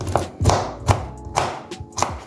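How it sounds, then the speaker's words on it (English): A knife chops cassava into pieces on a board for fufu, giving five sharp, evenly spaced cuts close by with no talking. "So I just cut them up in pieces."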